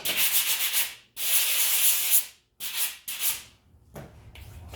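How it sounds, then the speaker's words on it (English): Harsh scratchy strokes of a sanding pad rubbing kiln wash off a fired piece, in several bursts with brief pauses between them, loud and close, no talking. "This little kiln wash, it'll just sand right off."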